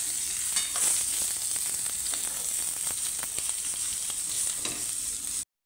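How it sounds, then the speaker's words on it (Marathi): Stuffed brinjals fry in a generous amount of oil with a close, continuous sizzle and scattered pops and crackles, heard alone. "वांगी अशी तेलावर भाजून घेतल्यानंतर थोडीशी परतवून घेतल्यानंतर"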